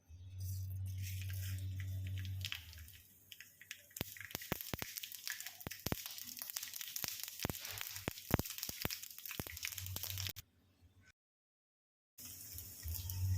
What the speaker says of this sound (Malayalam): കടുക് പൊട്ടി കഴിയുമ്പോൾ മുളക് ഇടാം.